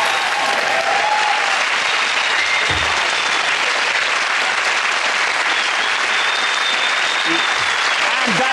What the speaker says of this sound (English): round of applause for the points going to Greg, Hugh and Chris.